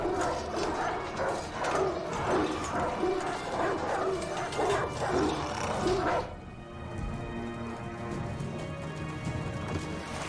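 Dogs bark and yip in a scene from a Game of Thrones episode, rapid excited barking under a busy mix for about six seconds before dropping away to a quieter backdrop.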